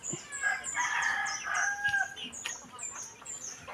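A rooster crows loudly and fairly close, a drawn-out call followed by some clucking and fluttering, with no talking.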